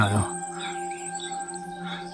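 Birds chirp faintly in the distance on a foggy mountain trail on Mt. Tapulao, over a low, steady background hum, with a brief thump at the very start.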